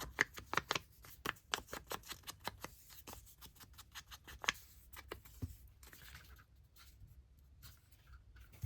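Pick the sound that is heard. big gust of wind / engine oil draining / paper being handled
paper being handled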